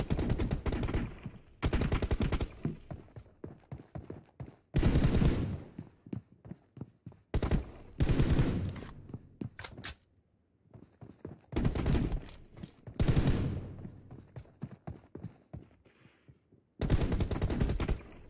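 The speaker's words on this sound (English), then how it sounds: "Nice shot by Legenda." Gunfire in a PUBG Mobile match comes in repeated loud, rapid bursts of automatic fire. Each burst lasts one to two seconds, with short quieter gaps between them.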